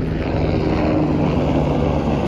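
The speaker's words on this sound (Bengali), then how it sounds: "হেলিকপ্টার চলে যাচ্ছে" A helicopter passes over the mountain pilgrimage route near Panchtarni on the Amarnath Yatra, heard as a steady, loud droning rumble that holds evenly through the whole moment, with no voices.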